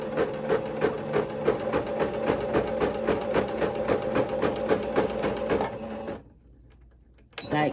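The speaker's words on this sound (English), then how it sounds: "we're going to go ahead and finish sewing the channel on this one" A sewing machine stitches the channel on ruffle tutu socks, a rapid, steady, close mechanical chatter for about six seconds, then a brief near-silent pause before it starts again.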